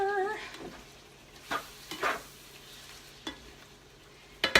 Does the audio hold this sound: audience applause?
no